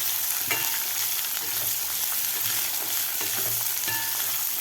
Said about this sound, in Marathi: आता व्यवस्थित आपल्याला 1-2 मिनटं हे भाज्या परतून घ्यायच्या आहेत